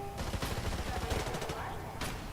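Gunfire from a video game trailer: rapid bursts of shots and staccato automatic fire, fairly faint and compressed, with a voice talking over parts of it.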